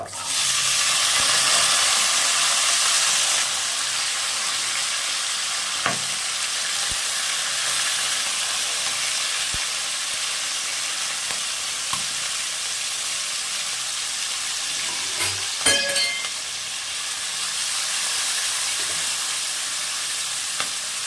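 Chopped spring onion stalks dropped into hot oil in a pan set off a loud, steady sizzle that carries on close up for the whole stretch, with a few faint clatters and stirs over it and no talking.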